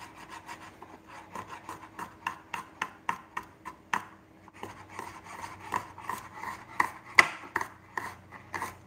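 A knife chops garlic on a cutting board with a quick series of sharp, close taps in a steady rhythm, pausing briefly and then resuming with more irregular strikes, with no talking.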